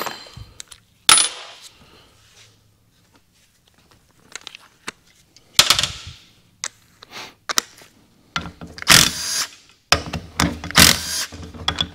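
Half-inch bolts being removed from the pump of a Cummins 47RE automatic transmission during teardown, heard as scattered metallic clinks, knocks and rattling of parts and tools up close, with bursts of louder clatter and no talking.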